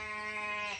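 A young female lamb gives a single drawn-out nasal bleat at close range, clear and alone, lasting under a second.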